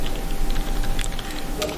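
Rapid keystrokes on a computer keyboard while entering a value into a spreadsheet formula, a short run of light, uneven clicks close to the mic over a steady background hum.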